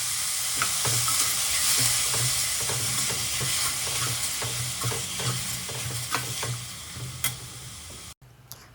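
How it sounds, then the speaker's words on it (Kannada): Tomatoes and onions fry in a pan, giving a steady close sizzle with regular scraping stirs. The sound cuts off abruptly near the end. "ಟೊಮೆಟೊ ಹಣ್ಣು ಕೂಡ ಫುಲ್ ಮೆತ್ತಗಾಗಬೇಕು, ಅಲ್ಲಿವರೆಗೂ ಕೂಡ ಹೀಗೇನೆ ಹುರ್ಕೋತೀನಿ"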